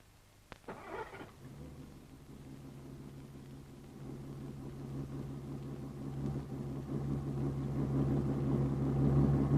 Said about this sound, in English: The car starts smoothly and behaves as if it had a whole range of low gears that automatically and smoothly change up.